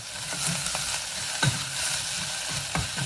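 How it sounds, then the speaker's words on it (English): Onions frying in a pan for a cottage pie, a steady crackling sizzle with a few louder spits and stirring clatters, close and continuous, no voices. "so we've got the onions in the pan"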